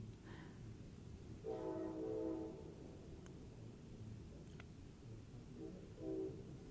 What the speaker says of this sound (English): It's a lot of train toots.